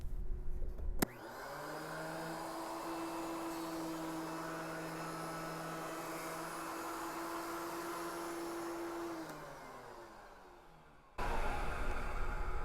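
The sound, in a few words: wood planer running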